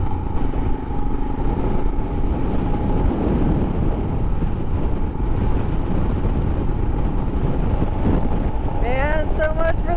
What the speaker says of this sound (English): Man, so much for the wind laying down. It is ripping through here.